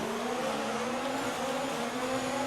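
Several F1 race cars in F1 2019 launch off the grid at the Bahrain GP, a dense steady engine roar with rising whining tones held throughout, loud and unbroken with no talk.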